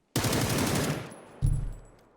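In the battle game PUBG, a loud, close burst of rapid gunfire rips out and decays, followed by a second sharp blast with a booming low tail, like a distant flashbang.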